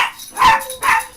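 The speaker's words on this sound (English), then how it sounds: "Doorbell rang, so it's like dog barking time." A dog barks indoors after a doorbell rings: two sharp, fairly loud yips or barks about half a second apart, nearby and alone without talk.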